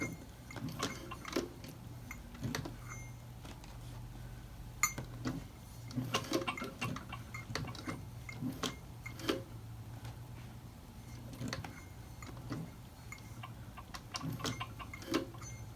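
Hand stitching a leather Bible cover produces soft, irregular ticks and taps, quiet and close, spaced out in an uneven rhythm over a low steady hum.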